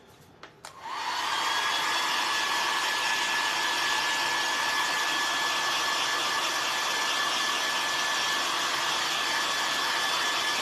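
A hair dryer drying paint on an unsanded barn wood pumpkin: after a click it roars on and holds a loud, steady, breathy whoosh with a faint whine, close and uninterrupted.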